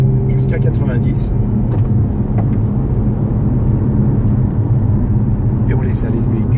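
A 2017 Toyota C-HR hybrid accelerates on an open road, its engine and road noise forming a steady, loud cabin rumble while the driver talks over it.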